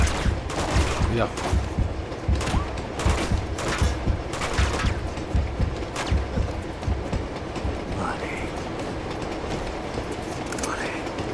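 Gunfire in the video game Uncharted 2, a quick series of loud sharp shots in the first half, then quieter rumbling game ambience with a couple of whooshing effects, and a brief spoken word.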